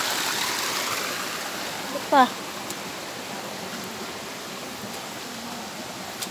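Water flows steadily from a natural spring in a rural barangay in Bohol, a constant close rushing wash that lasts throughout, with a brief spoken word and a short chirp partway through.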